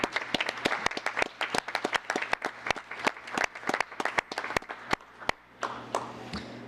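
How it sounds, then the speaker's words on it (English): Town council meeting audience gives a round of clapping for a departing member, a dense, fairly steady patter of many hands close by that thins toward the end, with no talk over it. "Gold medal clap."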